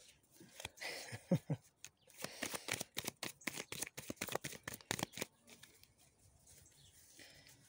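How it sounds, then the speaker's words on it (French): Tarot cards being shuffled, with a close, rapid burst of riffling and flapping snaps for several seconds, then a quieter stretch of soft handling. "D'abord je tire mes 3 cartes et puis après on en parle."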